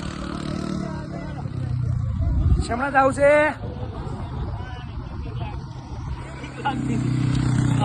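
A car passing on a road, its low engine rumble swelling at the start and again near the end while people talk close by.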